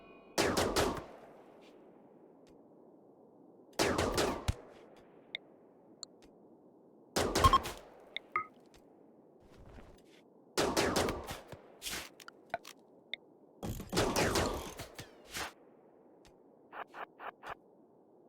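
Bursts of rapid automatic gunfire crackle during target practice in RimWorld Odyssey, arriving in short separated volleys with silent gaps between, ending with a few quick single shots.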